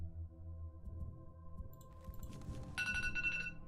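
A phone alarm rings out in a quiet room, a bright repeating tone that starts partway through and holds steady, faint low murmurs beneath it.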